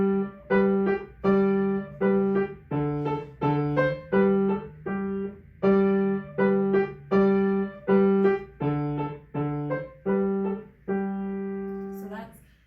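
Piano left hand alternating tonic and dominant notes, do and so, in a steady bouncing pattern of repeated chords, clear and close, with a held final note fading out and no talking.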